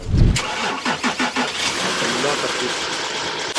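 A BMW X5 engine cranks with several rhythmic turnover pulses, catches and settles into a steady idle, recorded close by with someone speaking over it.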